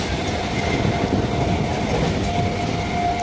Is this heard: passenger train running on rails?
yes